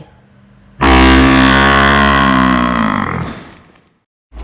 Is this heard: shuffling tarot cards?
no